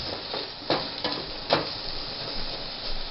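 Chopped vegetables cooking down in olive oil and butter in a pan, giving a soft steady sizzle with a few faint stirring clicks and scrapes, with no talking.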